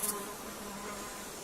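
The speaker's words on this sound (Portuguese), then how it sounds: "Essas moscas vermelhas gigantes adoram o calor e se reproduzem sob o sol de verão." Giant red flies buzzing in the hot summer desert of Aragon, a steady close insect drone filling the air, with no talk.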